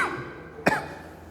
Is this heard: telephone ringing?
no